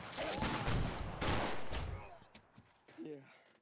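A burst of automatic gunfire rattles out in a video game, dense and loud at first and then thinning to scattered shots, with a voice speaking briefly near the end.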